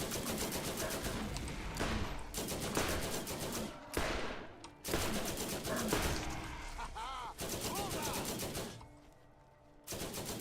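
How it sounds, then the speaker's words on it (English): Gunfire in the video game Borderlands, dense bursts of rapid shots in several long volleys separated by short gaps, loud and close, with other game effects mixed in. "we need to pull out our pistol. Our pistol is the best way to shoot them."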